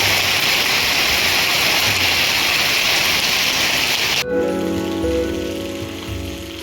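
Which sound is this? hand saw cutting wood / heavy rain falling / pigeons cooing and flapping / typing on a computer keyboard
heavy rain falling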